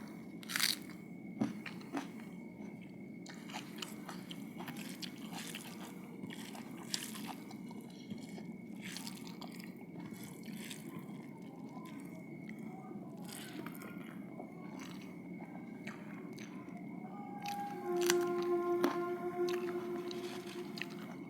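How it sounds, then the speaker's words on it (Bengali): Crunchy onion snack is bitten and chewed close up, with repeated sharp crunches in an irregular rhythm over a low background murmur and a faint voice near the end. "দুর্দান্ত পেঁয়াজ কামড় দিই"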